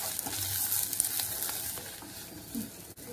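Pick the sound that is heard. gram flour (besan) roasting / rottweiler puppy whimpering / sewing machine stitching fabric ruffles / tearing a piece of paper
gram flour (besan) roasting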